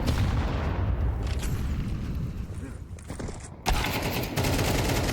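Gunfire in a Counter-Strike 2 esports match, with bursts of rapid shots and booming reports over busy game audio, a sharp loud burst near the end, and a caster talking underneath.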